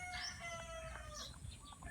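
Texas chicken hens cluck faintly at a distance, with a thin crow-like call rising among them in a quiet yard, the sounds soft and scattered over a low background rumble.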